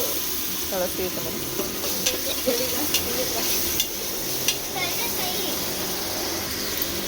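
Ginger garlic paste fries in a pan over a low flame, producing a bright, constant sizzle broken by intermittent stirring clicks, while a voice talks faintly underneath.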